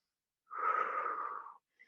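A single long exhale during a mat Pilates exercise, a soft airy rush of breath lasting about a second, close and alone in an otherwise quiet room.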